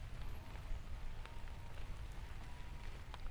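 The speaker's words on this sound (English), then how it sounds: "this sure is nice on a warm day to have this kind of rain coming down" Steady rain pours down on a warm day, a continuous close wash of drops pattering on surfaces with no voices and no pauses.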